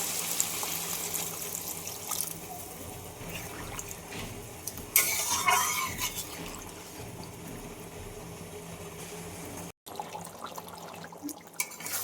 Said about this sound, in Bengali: একেবারেই আমি দিয়ে দিচ্ছি ঝোলের জল